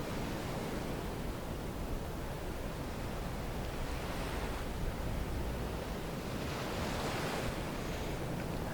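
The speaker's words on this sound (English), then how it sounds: "I like how calming the waves are." Ocean waves wash steadily onto the shore in a continuous, full surf roar, with soft swells rising and falling and some wind; no voices.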